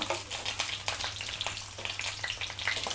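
Six dried red chilies, cut open, crackle and sizzle in hot oil for a garlic telagapindi curry, a steady busy frying hiss with sharp popping spits scattered throughout and no voices.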